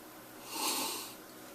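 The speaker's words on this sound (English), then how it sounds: "Let's give it a little sniff." A single soft sniff of a glass of IPA beer, a breathy rush of air that swells and fades over about a second, close to the microphone.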